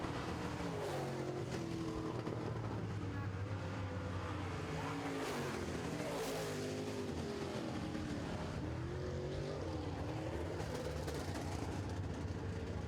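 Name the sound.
late model race cars on a racetrack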